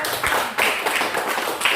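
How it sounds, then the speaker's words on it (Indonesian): Brief scattered hand clapping from a small group of junior high school students in an Indonesian-language class, a few claps spread loosely over under two seconds, fairly close and modest in loudness. "tepuk tangan untuk kelompok"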